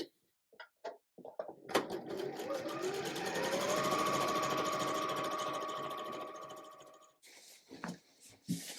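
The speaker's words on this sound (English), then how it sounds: "I'm just going to go ahead and sew the top 2 together and the bottom 2 together" A sewing machine stitches quilt blocks together, running in a steady fast mechanical whir for several seconds, with brief handling clicks and soft sounds before it starts and after it stops.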